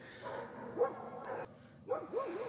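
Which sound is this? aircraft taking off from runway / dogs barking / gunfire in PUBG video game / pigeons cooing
dogs barking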